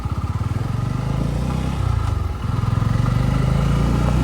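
Bajaj Pulsar F250 motorcycle engine running steadily while riding, a loud close low rumble with a brief dip in pitch midway before it picks up again.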